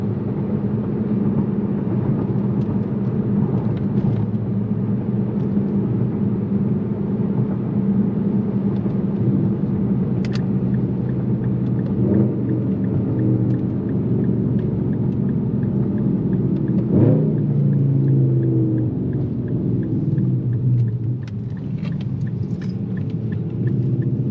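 Deep, steady rumble of a straight-piped Infiniti M56 engine and exhaust heard from inside while driving, a loud continuous drone with a few swells and shifts in pitch, and no talking.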